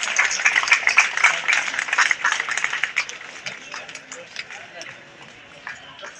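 An audience at a storytelling session of a literary conference bursts into dense applause, loud and steady at first and then gradually thinning and fading toward the end.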